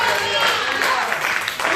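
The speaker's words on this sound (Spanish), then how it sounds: "Vamos, dale un aplauso al que vive." Church congregation claps and cheers in a brief, dense burst of applause during a worship service.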